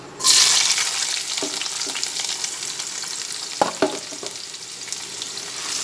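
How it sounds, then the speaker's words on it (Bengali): Chopped onions hit hot oil with garam masala and burst into a loud sizzle, which settles into steady frying, with a few sharp stirring scrapes and clacks near the pan. "পেঁয়াজ ভেজে নিচ্ছি"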